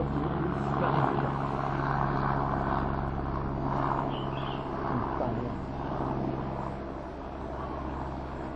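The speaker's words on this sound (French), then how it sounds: "Hélicoptère. Hélicoptère." A helicopter drones steadily overhead, a low rumbling engine hum that holds at a moderate distance without fading away.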